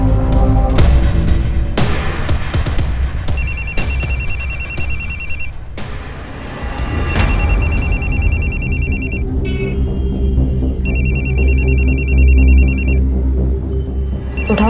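An electronic telephone ring repeats in bursts over loud background music, the trilling tone recurring several times.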